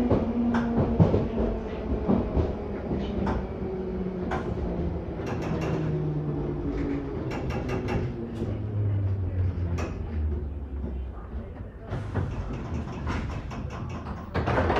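A London Underground Bakerloo Line 1972 stock train, unit 3531, runs between Queens Park and Stonebridge Park, a loud steady rumble and rattle heard from inside, with the motor whine falling in pitch as it slows.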